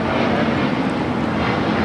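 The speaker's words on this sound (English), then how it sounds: "This is Delta Airlines 991 taking off to JFK on the 767-300ER" Delta Airlines Boeing 767-300ER jet taking off at LAX bound for JFK, a loud, steady broadband engine roar filling the short stretch without any voices.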